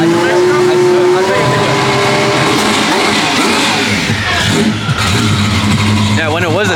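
A twin-turbo V12 Ferrari engine runs at its first start-up, a loud, sustained roar with rising and falling revs close by, with people talking over it.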